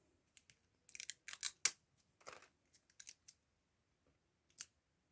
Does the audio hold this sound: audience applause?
no